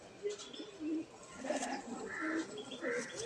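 A big male Sudri Doma pigeon with a mukhochhatiyal crest coos in low, soft bursts at close range, joined by scattered chirps and other birds in the background.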